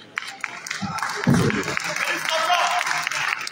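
Crowd applause fills a formal closing ceremony of Mali's national refoundation conference, honoring the president of the high-level panel. The clapping is dense, steady and moderately loud throughout, with some voices mixed in underneath.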